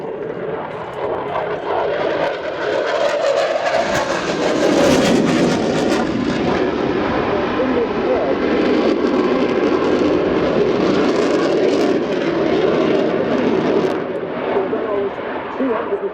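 A Finnish F/A-18C Hornet fighter jet roars overhead at the RIAT airshow, a loud sustained engine rumble that swells and holds throughout, with a voice commenting over it.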